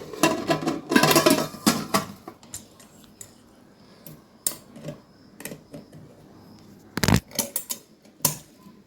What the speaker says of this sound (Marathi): आता कुकरला वरून झाकण लावून पॅक करून देऊया आपण